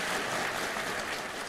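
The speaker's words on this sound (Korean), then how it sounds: "제가 부탁드렸는데 박수 안 치십니까?" An audience at a justice minister's inauguration ceremony applauds in a short, steady wash of clapping that holds at a moderate level throughout.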